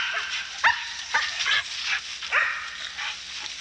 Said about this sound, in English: Them dogs know he's hurt. They all over him.